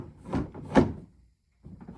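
A Maytag bottom freezer door slides out of its bracket in two quick scraping, thudding knocks, close and fairly loud, followed by a brief silence and a softer shuffle.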